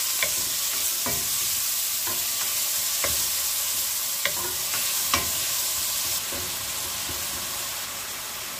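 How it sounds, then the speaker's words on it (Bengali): Onions fry in hot oil with a continuous loud sizzle while a spatula stirs them, sharp scraping knocks landing about once a second over the hiss, close and with no voices. "তেল গরম হয়েছে, এখন আমি পেঁয়াজ দিয়ার তেলের সাথে একটু মিক্স করি নিয়ে"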